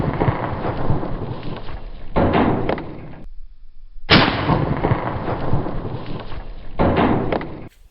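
Two loud, booming gunshots from a lightweight .375 CheyTac M200 Intervention rifle fired outdoors, each followed by a long rolling echo that decays slowly.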